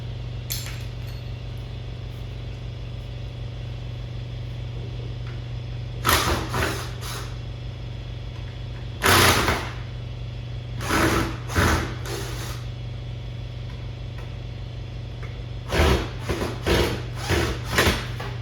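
Phillips screws being backed out of the side panel of a Journey arcade cabinet during a restoration, several short bursts of a screwdriver's whirring and clicking spaced apart over a steady low hum.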